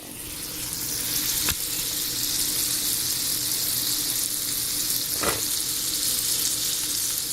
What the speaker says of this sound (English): And place it right in your pan.